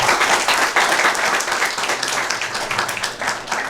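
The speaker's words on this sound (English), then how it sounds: "Give them a bigger round of applause." Audience at a school quiz event in Sikkim giving a round of applause, dense loud clapping from many hands filling the room, sustained and fading slightly toward the end, with faint voices mixed in.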